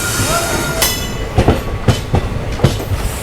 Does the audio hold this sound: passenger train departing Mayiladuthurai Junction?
yes